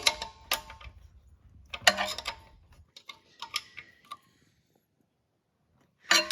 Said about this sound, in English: About 20 foot-pounds with a 9/16 combination wrench is what it took.